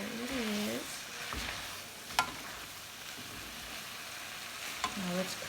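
Ramen noodles stir-frying with sauce in a hot pan, Lao style, worked with chopsticks: a steady close sizzle with a few soft scrapes and clinks of stirring.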